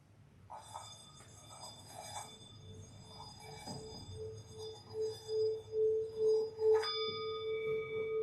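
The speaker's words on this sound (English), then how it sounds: "by ringing the bell and bringing that sound into our mind and our bodies and our spirits" A single bell rung to open a worship service rings out with a clear, sustained tone that swells and pulses toward the end, alone with no talking.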